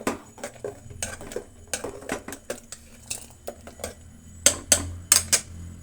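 A metal pot lid and utensils clink and clatter over a pot of village-style sambar in a home kitchen, with a string of sharp, close taps that grows louder near the end.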